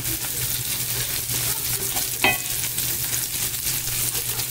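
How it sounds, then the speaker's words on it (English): A tomato being pressed down while sautéing in a pan for mango shrimp, with a steady soft sizzle, one brief scrape or clink near the middle, and a low hum underneath, no talking. "I'm just kind of pressing down on the tomato"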